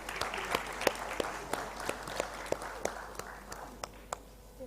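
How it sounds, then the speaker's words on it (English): Sparse, distinct claps from a conference audience applauding panelists at a plenary session, with individual hand claps spaced out and thinning toward the end. "Let's have a round of applause"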